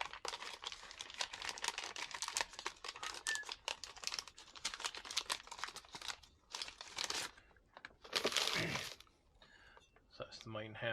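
Close, rapid crinkling and snipping of plastic packaging being cut with blunt scissors, with a burst of tearing near the end.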